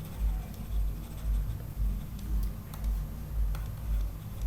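A pen writes by hand on paper during a Grade 10 statistics lesson, making soft scratchy strokes with faint ticks over a steady low background hum.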